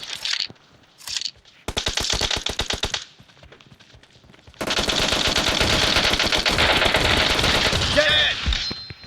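Bursts of rapid gunfire from PUBG Mobile, including shotgun fire: short volleys early on, then a long, loud, sustained barrage with metallic clinks near the end.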